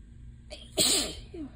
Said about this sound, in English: Okay, I think I'm actually done with the sneezing for now.